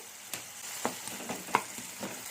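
Finely chopped beans, carrot and ginger-garlic paste fry in ghee for a poha breakfast, a quiet sizzle broken by several distinct spoon scrapes and taps against the pan, with no voices.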